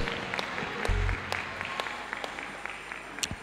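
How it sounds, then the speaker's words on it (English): A church congregation claps sparsely and unevenly, scattered hand claps and a few sharper individual claps over a quiet room tone, fading toward the end. "We clap for the Lord Jesus Christ."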